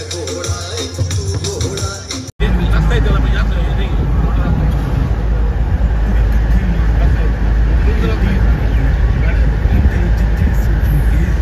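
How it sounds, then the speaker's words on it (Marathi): Traffic jam on a mountain road to Pahalgam, with a steady loud rumble of idling and creeping buses and cars heard close from inside or beside a vehicle, continuous after a brief cut. "ट्रॅफिक मध्ये आम्ही अडकलेलो आहे, तुम्ही बघू शकता किती लांब पर्यंत ट्रॅफिक आहे"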